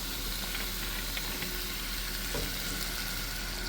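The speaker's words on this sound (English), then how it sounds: "So now we're going to add in the vinegar." Vinegar poured into a hot pan for Jamaican escovitch fish sauce with Scotch bonnet pepper, giving a loud, dense, unbroken hiss of sizzling that fills the whole moment, close up and without speech.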